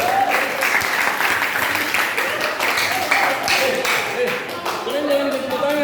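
A classroom of students claps hands together, a lively, continuous patter of many small hands at close range, with children's voices chattering underneath.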